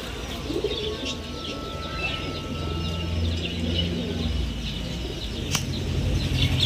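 Satinette pigeons coo in low, steady murmurs, with occasional bursts of wing flapping and faint chirps in the background.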